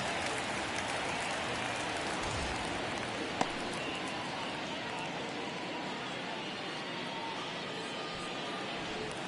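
Stadium crowd in MLB The Show 24 during a ninth-inning Mariners versus Astros baseball game, a dense, steady roar held at even loudness with one sharp click partway through.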